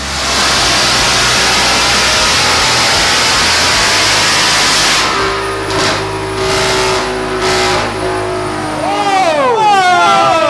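A supercharged 800-plus horsepower 2024 Ford Mustang GT on a dyno at Palm Beach Dyno roars at full, very loud throttle for about half the run, then winds down with a sweeping whine and uneven revving as people talk over it.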